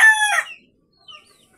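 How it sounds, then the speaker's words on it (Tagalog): Backyard chickens: a rooster's crow cuts in loud and close, then stops short, followed by a few faint clucks in near silence. "ito yung mga alaga kong manok"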